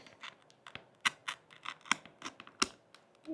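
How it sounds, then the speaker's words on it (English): Close, quiet scissor snips trim material for an IWB holster wedge during an adhesive Velcro install, a run of crisp, slightly irregular cuts with no talking. "That's why it's harder to cut for me. One more cut here."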